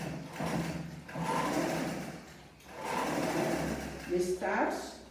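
A sewing machine runs in steady bursts while stitching a sleeve into a blouse, starting at the underarm; the whirring hum pauses briefly between runs, with a voice talking over it.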